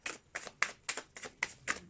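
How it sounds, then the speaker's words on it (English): Tarot cards are shuffled in quick, even bursts, about seven soft slaps in a row, close and fairly quiet. "One more time shuffling."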